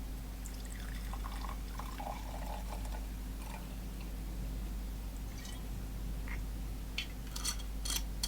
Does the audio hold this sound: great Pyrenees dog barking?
no